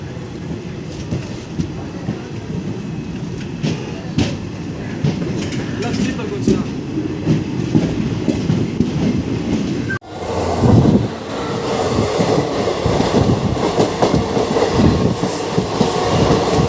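ICF train with Jan Shatabdi rakes running, heard from on board as a loud steady rumble with clickety-clack of wheels over rail joints and a brief squeal, voices faintly mixed in.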